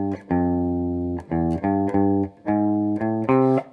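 Funk guitar riff played slowly, a handful of sustained, slightly distorted notes stepping downward with short gaps between them, clear and close with no talking.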